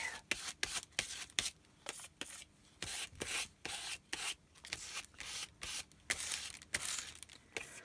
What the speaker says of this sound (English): I hope this scraping isn't too loud for you, especially if anybody's wearing earbuds